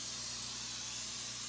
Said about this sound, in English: Just take your dish, spray it.